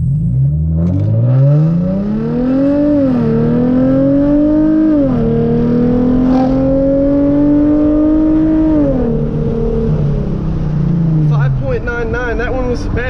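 A Hyundai Genesis Coupe 3.8 launches hard, its engine note climbing steadily through several gears with brief dips at each shift, loud and close throughout, ending with a lower settling tone.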